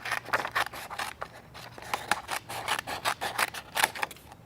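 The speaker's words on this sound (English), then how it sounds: "there's a flap, which we're just going to snip off" Scissors snipping a flap off thick cardstock, a quick series of close, dry rasping cuts in an irregular rhythm, heard alone without speech.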